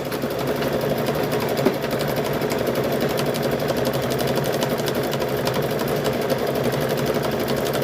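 A sewing machine stitches a car seat cover with a fast, steady mechanical rattle close to the mic. The rhythmic needle chatter runs without a break, and no voices are heard.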